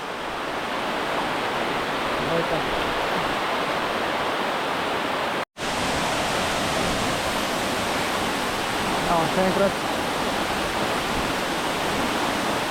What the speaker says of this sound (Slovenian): Gledajte, kako voda gre skozi okno.